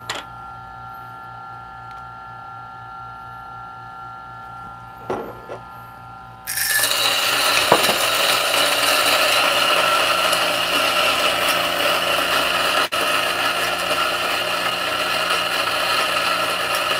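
DF64P coffee grinder with Gorilla Gear black burrs grinding 18 grams of espresso beans: quiet hum at first, then a loud steady whirring grind starting about 6.5 seconds in and continuing to the end.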